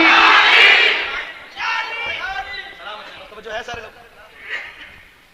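A crowd roars back in loud unison to the Nara-e-Haidari slogan at a religious gathering, a burst of massed shouting followed by a few more ragged waves of voices, close and energetic.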